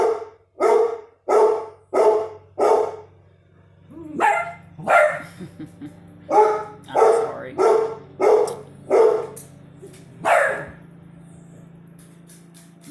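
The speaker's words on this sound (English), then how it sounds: "They're barking at the lawnmower." Dogs bark repeatedly at a lawnmower, a series of loud, sharp barks in uneven bursts, with the mower humming low underneath and a brief spoken apology.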